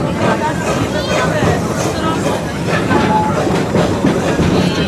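Open-air safari tour train at Busch Gardens rolls along steadily with a continuous rumble and rail clatter, loud and close throughout, while a guide talks over it and passengers murmur in the background.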